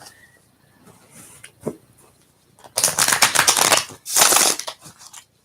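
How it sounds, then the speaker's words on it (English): Tarot cards are shuffled in two quick bursts of riffling, close and crisp, after a few soft handling clicks and taps in a quiet room. "Let's do a couple of shuffles."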